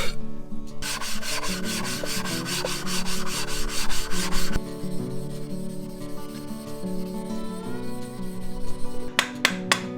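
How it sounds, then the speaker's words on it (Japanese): A Japanese hand-plane (kanna) blade is sharpened on a whetstone, producing close, rhythmic rubbing and scraping strokes, busy and dense at first, then lighter with a few sharp clicks at the end. "カンナの刃を研ぎます"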